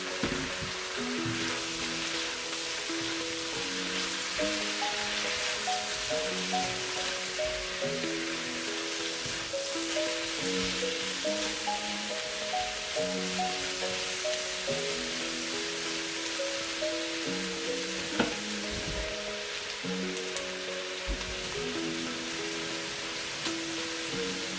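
Pre-sliced mushrooms frying in a one-pot meal, a steady, even sizzle that hisses continuously throughout, with quiet background music running underneath.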